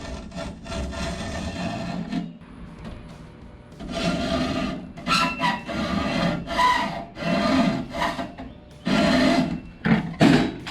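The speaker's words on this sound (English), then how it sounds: "Hacksaw. Try not to cut off your hands." A hacksaw works through material at close range in loud, repeated rasping strokes, broken by short pauses between bursts.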